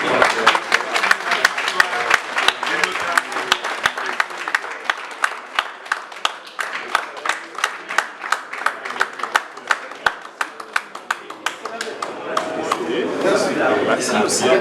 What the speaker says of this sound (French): je vous demande encore d'applaudir cet acte qui symbolise